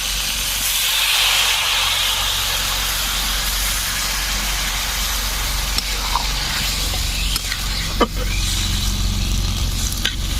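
Water goes into a hot pan of jackfruit curry and sets off a loud, steady hissing burst of steam and sizzle that fills the whole stretch, with a few faint knocks near the end.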